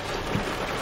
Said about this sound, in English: It's still raining, and it really hasn't stopped raining.